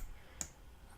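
One short, faint mouse click sounds in the middle of a quiet stretch while working in After Effects, a single dry tick over a low background hum.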